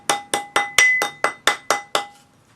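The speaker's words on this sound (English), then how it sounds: "use your rawhide hammer to round it up" Eight sharp, evenly spaced taps with a bright ringing tone from a rawhide hammer striking a wire ring on a metal ring mandrel, each decaying quickly before the next.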